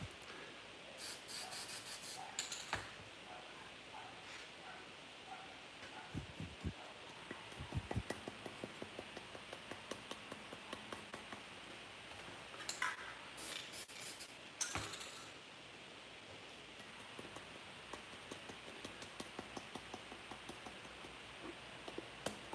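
An aerosol can sprays white paint onto a painting to make stars, with faint hissing bursts of varying length separated by quiet scratchy pauses.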